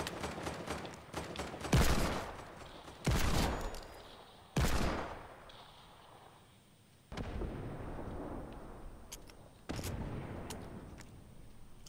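Gunfire in a Fortnite match, coming as several separate loud bursts and single blasts spread across the stretch, with quieter game ambience between them and no talking.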